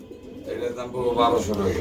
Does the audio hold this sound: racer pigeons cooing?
yes